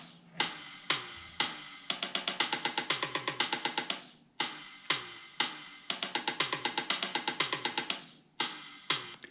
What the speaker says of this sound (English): it would sound like this on the Metronome app.